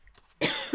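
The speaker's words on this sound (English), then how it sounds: "I always cough right into the microphone." One sharp, close cough after a brief near-silence, loud and abrupt.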